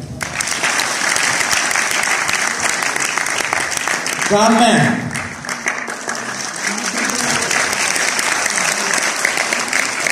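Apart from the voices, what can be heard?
audience applause after a stage drama performance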